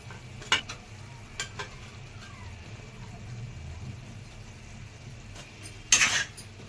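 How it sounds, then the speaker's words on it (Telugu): Fried eggs go into a simmering tomato and onion gravy, a low bubbling sizzle with a few sharp clinks of a spoon against the pan and a louder scrape near the end. "ఇప్పుడు ఈ గ్రేవీలో నూనెలో వేయించుకున్న గుడ్లు వేసుకుందాం."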